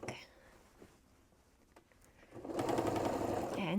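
A sewing machine stitches a zipper onto a pencil skirt, quiet handling and faint voice first, then a loud, close, rapid mechanical whir from about halfway onward.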